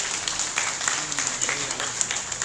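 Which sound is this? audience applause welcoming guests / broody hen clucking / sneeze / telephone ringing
audience applause welcoming guests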